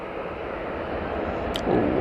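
An airliner touching down at Manchester Airport gives a steady jet rumble, with a brief sharp squeak near the end as the roar swells slightly.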